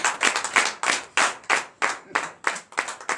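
A church congregation at a night prayer service claps to acclaim Jesus, with about a dozen sharp, rhythmic bursts of hand clapping in quick succession, close and distinct.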